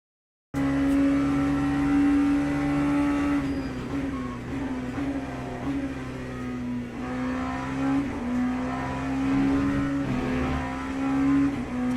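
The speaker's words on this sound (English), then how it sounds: "I'm running straight away into the rev limiter" An LMP2 or LMP3 prototype race car engine in Le Mans Ultimate at Silverstone, holding a steady high drone against the rev limiter, continuous and loud, with no talking.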